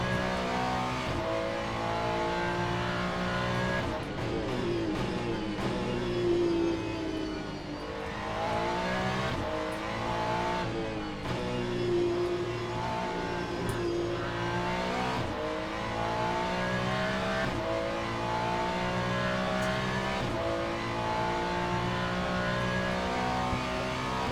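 GT3 race car engine in the Le Mans Ultimate racing game, a continuous loud drone with rising and falling revs through gear changes and brief lifts, running steadily throughout without talk.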